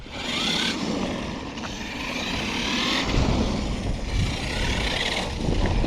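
A Losi LMT RC monster truck runs at half throttle, with a continuous whirring motor and rough terrain noise. It stays fairly steady with mild surges and no voices.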